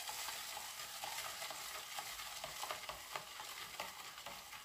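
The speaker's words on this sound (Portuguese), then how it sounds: "Vamos mexer um pouquinho para que se dissolva." Continuous gritty swishing and scraping of a lye solution being stirred in a container to dissolve it for soap making, steady and close, with no voices.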